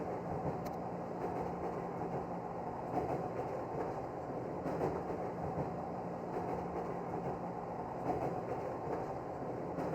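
Steady train interior rumble inside a video game carriage, a continuous low rolling drone with faint rail noise, even and moderately loud with no voices.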